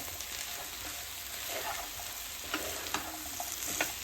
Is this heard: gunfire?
no